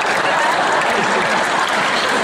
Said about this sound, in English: Don't clap, it's despicable.